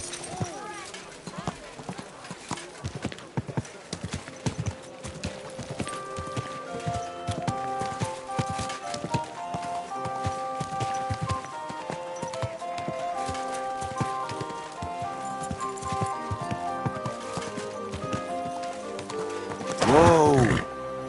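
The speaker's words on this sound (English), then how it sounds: "Is this your first time riding a horse, you moron?" A horse's hooves clip-clop at a steady pace in the video game Kingdom Come Deliverance 2, the rhythmic thuds running under music and game dialogue, with a brief louder burst near the end.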